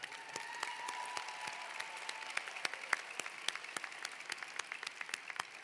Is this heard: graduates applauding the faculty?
yes